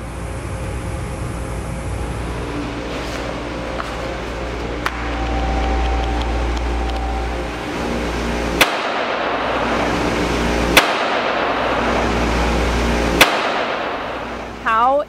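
Gunshots fired at a Level 3A soft ballistic backpack insert during an on-site test, three sharp reports spaced a couple of seconds apart over a loud, steady background rumble.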